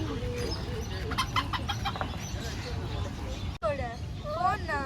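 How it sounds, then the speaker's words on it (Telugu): Small dwarf chickens at an exotic park in Tirupati cluck and chatter close by, with people talking over the birds throughout. "పుట్టుకోళ్ళు మరుగుజ్జి కోళ్ళు మరుగుజ్జి కోళ్ళు"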